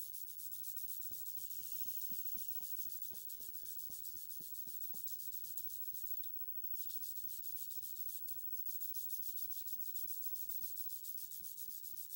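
A Sega Genesis game cartridge is hand-polished with a cloth, giving a soft, close, steady rubbing hiss with quick repeated strokes, faint and continuous.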